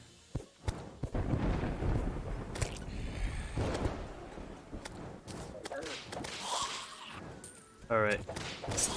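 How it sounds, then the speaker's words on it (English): Thunderstorm thunder in Terraria booms and cracks in sharp, loud bursts with rumbling tails, mixed with other game sounds while a person talks at times. "Well, also has to be a thunderstorm."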